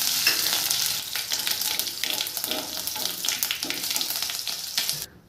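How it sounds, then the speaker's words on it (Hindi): Spices tempering in hot oil in a pan for an Odia arbi curry, a loud steady frying sizzle with crackling pops throughout, cutting off near the end. "एबे सही तेल रे फुटण को पकई नेबा"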